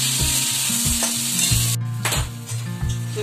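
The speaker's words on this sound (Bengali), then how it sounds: "আলু আর পেঁয়াজ একসাথে ভাজা হয়ে যায়।" Potatoes and onions sizzle loudly as they fry together in a pan, with a spatula stirring and scraping in a steady rhythm close by and no voices.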